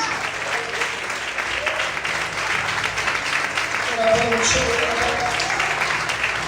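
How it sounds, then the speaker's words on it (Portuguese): Church congregation applauding during an evening worship service, sustained crowd clapping under faint murmuring voices, swelling slightly in the second half. "Quantos podem glorificar e aplaudir o Senhor essa noite?"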